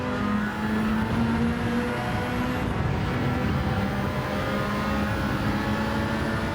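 Race car engine in Gran Turismo 7, an RE Amemiya RX7 on a Le Mans circuit, holding a loud, steady, sustained drone with gradually climbing revs and faint background engines.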